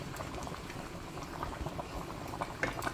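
Red peas soup with yam and cocoa bubbling in a pot, a steady close simmering gurgle with small irregular pops throughout.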